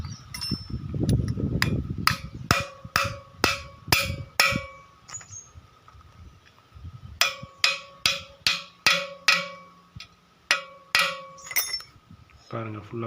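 Bearing being fitted onto the rotary shaft of a VST Shakti 130DI power tiller, with sharp metallic clinks from repeated hammer taps in rhythmic bursts, close up, after some low rumbling handling noise at the start.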